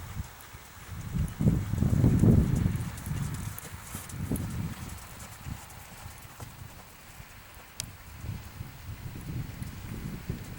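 Hooves of a horse clip-clop on an arena surface during a riding lesson, a steady walking rhythm of soft thuds that swells louder at moments, with light wind in the background.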